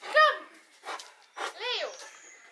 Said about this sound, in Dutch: Het is toch een spelende hond van niks, hè?